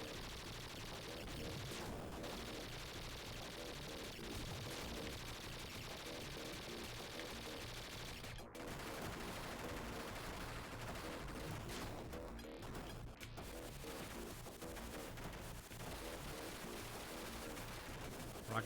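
Continuous rapid gunfire and explosions from enemy guns in the 1994 run-and-gun game Ultracore, dense and sustained at steady loudness for the whole stretch, with brief gaps and possible talk underneath.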